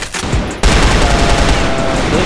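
Sustained QBZ rifle fire in a first-person shooter game, a dense, loud, continuous burst of rapid shots that cuts in abruptly after a brief quieter lead-in and keeps going without a break.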